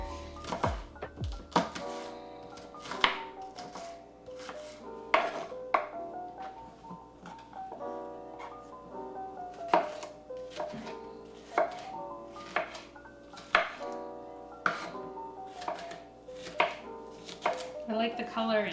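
Knife chopping a fairly pungent onion on a board, a steady run of sharp percussive chops repeating every half second or so, close and fairly loud over soft background music with no talking.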